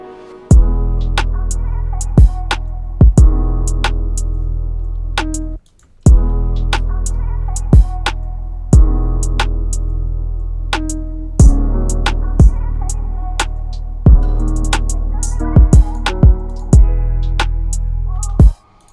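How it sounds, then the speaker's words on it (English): Deep, booming mono kick drum thumps repeating steadily through a sustained melodic beat made in FL Studio, loud and upfront, with a brief dropout partway before the pattern resumes. "And here's how the kick sounds."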